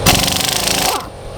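Cordless impact wrench fitted with a long impact socket hammering off a nut, a loud rapid burst of rattling impacts lasting about a second before cutting off.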